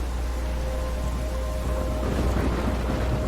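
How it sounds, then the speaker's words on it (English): A thunderstorm in the video game Life is Strange: steady, dense rain with a deep rumbling of thunder underneath, continuous and enveloping with no voices. "I'm trapped in a storm."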